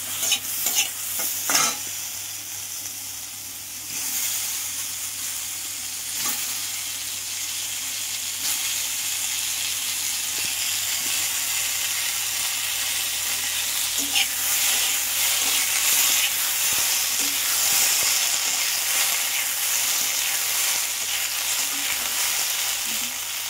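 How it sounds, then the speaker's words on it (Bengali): Paneer cubes fry in butter in a pan with a strong, even sizzle and steamy hiss that runs throughout, broken only by a few clinks and scrapes of stirring early on; close up, with no talking. "এবার আমি পনিরগুলো ছেড়ে দিচ্ছি, তা হালকা জাস্ট ভেজে নেব।"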